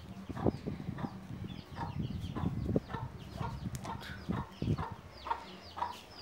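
Chicks being raised for faster growth cluck and peep in a steady, close chatter of short repeated calls, with no talk over them.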